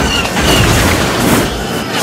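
An enemy swoop bike in the Jedi Academy game slams into an obstacle and blows up, a loud, dense crashing burst of noise that fills the short moment and then slightly fades.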